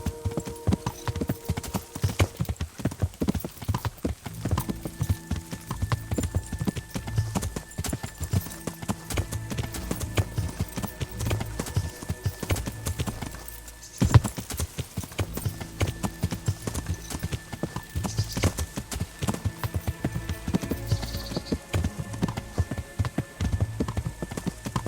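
Horse hooves clip-clopping in Kingdom Come: Deliverance, a steady rapid rhythmic gait with game music sustained underneath and a brief pause midway.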